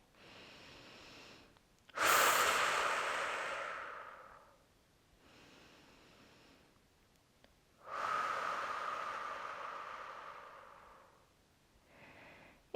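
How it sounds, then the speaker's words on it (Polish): Two deep, slow breaths drawn during a gentle spine-mobility yoga session, each a long, loud airy rush that fades out, with quieter breathing in the pauses and no talk. "Duże dwa oddechy tutaj."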